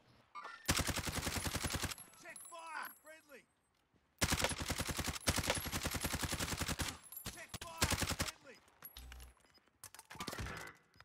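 Rapid automatic gunfire from the battle royale game Warzone, in long loud bursts of evenly spaced shots with short pauses between, while players talk over it.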